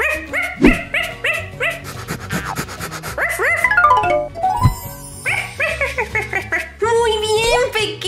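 A puppy gives a quick run of high yips and barks, with whimpers and rising whines mixed in, over a bright cartoon-style music bed.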